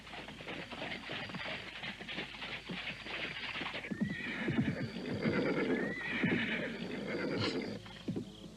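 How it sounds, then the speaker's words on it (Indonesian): A horse-drawn carriage arrives outside in a radio drama effect: steady clip-clop of hooves at a moderate distance, a horse neighing partway through, then the hoofbeats settle and slow. "Suara kereta kuda di luar."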